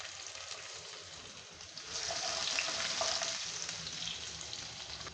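Quiet crackling of chopped garlic in hot oil swells into a louder, steady sizzle midway through.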